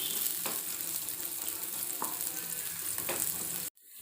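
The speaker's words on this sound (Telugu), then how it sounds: "ఆనియన్స్ కొంచెం కలర్ మారేంత వరకు వేపుకోవాలన్నమాట" Onions frying in a pan for fried rice make a steady sizzle with a few soft stirring clicks, running evenly before cutting off abruptly near the end.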